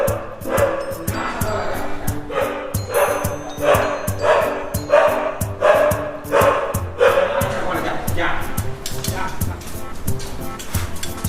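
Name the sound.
dog barking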